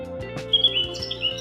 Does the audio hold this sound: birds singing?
yes